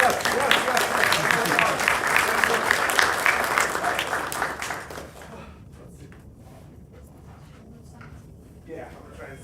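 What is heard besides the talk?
audience applause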